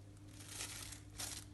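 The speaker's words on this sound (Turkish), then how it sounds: "bu şekilde poşeti koyabilirsiniz. Bu şekilde de hava almaz. Şöyle kapatın." A plastic bag being closed over a jar of mixed pickles, with two bursts of close, crinkling plastic rustle over a low steady hum.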